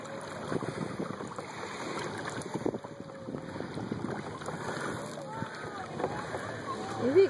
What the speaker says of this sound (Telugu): Captain Josna, captain Josna, pedal boat captain.